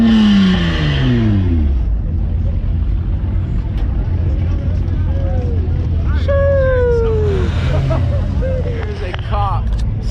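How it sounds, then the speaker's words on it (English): Car engines rev and whine repeatedly at a distance over a steady low rumble and crowd noise at a car meet, with rising and falling pitch sweeps. "people are just revving and running around"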